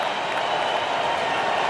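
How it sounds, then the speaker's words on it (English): Arena crowd in an NBA 2K25 basketball game, Blazers versus 76ers, clapping in a dense, steady wash of applause during a timeout. "Hey fans, clap your hands for your Sixers"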